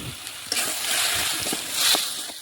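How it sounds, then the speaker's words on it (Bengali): Water from a rinsed spice bowl pours into a pan of spiced potatoes frying for a Bengali chicken and potato kosha, giving a close, steady hissing splash with a brief sizzle that swells near the end. "মশলার বাটিটা ধুয়ে একটু জল দিয়ে দিলাম"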